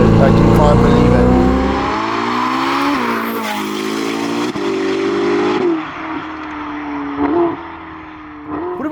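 Yellow Novitec Ferrari SF90 Spider supercar, tuned to 1109 hp, revs hard and accelerates with a loud rising engine note that shifts through several gear changes, close and dominant, easing near the end.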